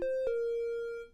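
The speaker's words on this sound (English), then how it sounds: "triangle wave," A synthesizer triangle wave sounds as one steady mid-pitched tone, slightly brighter and hollower than a pure sine, holding for about a second before fading out, heard alone.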